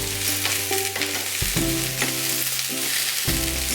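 Capsicum and onion sauté with fried chicken in a pan for chilli chicken, giving a steady loud sizzle broken by stirring scrapes and clatters, with no talking.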